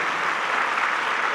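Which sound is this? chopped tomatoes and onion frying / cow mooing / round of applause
round of applause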